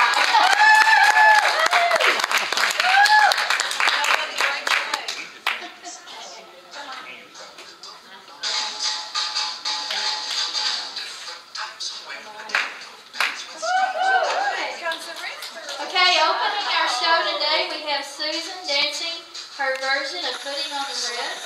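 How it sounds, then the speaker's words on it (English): An audience claps at a silly style show. Bursts of applause mix with spoken commentary, light laughter and background music, rising and fading in waves. "Maybe we need to all clap for them"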